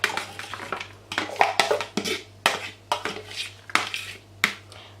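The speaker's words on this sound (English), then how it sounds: "I'm just going to put in all of these seasonings" Seasonings go into a bowl of oxtail, heard as a run of sharp clinks and taps of spoons and containers against the bowl, close by and in irregular bursts.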